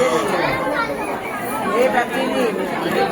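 Dense crowd chatter fills the air at the Ekvira temple in Karla, many overlapping voices murmuring close by in a steady, continuous babble.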